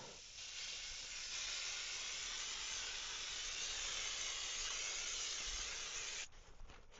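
Airbrush spraying a bronze and green paint mix onto the scales of a vintage wooden Pflueger Mustang fishing lure, a steady close hiss lasting about six seconds before cutting off into a few faint handling sounds.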